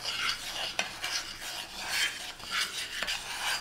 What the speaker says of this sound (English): So I'm going to stir these together.